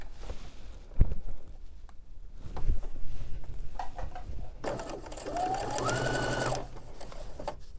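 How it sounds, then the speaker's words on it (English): A sewing machine stitches a partial seam across a quilt sampler block, its motor whirring steadily for about two seconds after a stretch of quiet handling and shuffling. "so I'm going to sew from here to there."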